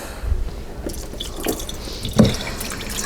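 Drops of hot peanut butter fudge mixture plop into a bowl of cold water, a few scattered soft drips and splashes over a quiet kitchen background.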